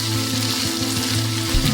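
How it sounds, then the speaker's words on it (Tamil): Seer fish hits hot oil for a Kanyakumari-style crispy fry, giving a brief, steady sizzle with a low hum beneath it and no voices. "எண்ணெய் சூடானதும் மீனை மெதுவா போடுங்க குழந்தைகளே."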